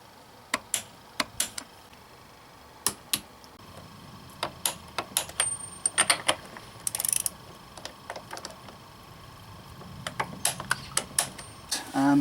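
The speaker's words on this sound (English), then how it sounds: "Okay, so let's torque it up to spec." A torque wrench tightens the fork bolts on a Honda VFR1200 motorcycle to specification during a fork seal replacement, giving a series of sharp, close ratchet clicks in irregular bursts over a quiet workshop background.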